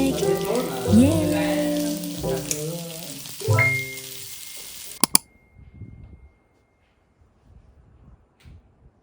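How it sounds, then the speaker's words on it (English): Lamb steak sizzling in a frying pan in a home kitchen, a steady hiss of frying under voices and other sound for about five seconds, then a couple of sharp clatters before it drops to faint, sparse noises. "here's my father-in-law teaching me how to cook lamb steak"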